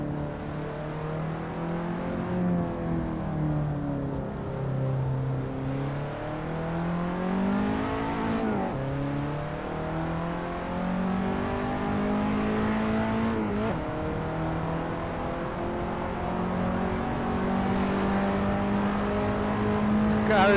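A car engine in Assetto Corsa VR, a fast, fun-to-drive road car, drones steadily through rising and falling revs and gear shifts across the whole stretch, loud and close, with brief dips between gears.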